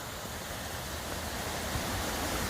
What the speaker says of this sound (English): Little pretty waterfall, man-made, but still pretty.